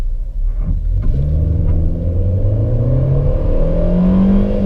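A Fiat Cronos HGT accelerates from a standstill toward 100 km/h with the air conditioning off, its engine note climbing steadily in pitch through the gears in a loud, close, continuous rumble. No talking.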